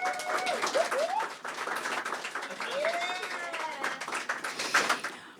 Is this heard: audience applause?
yes